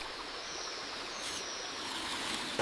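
River rushing over rocks, a steady roaring wash of water that stays constant and fairly loud throughout the short stretch, with no voices.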